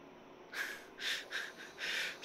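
Loud snoring from a person sleeping at a campsite in the Cimarron area, with four or five rough, breathy snores in a steady rhythm, each swelling and fading, close to the listener.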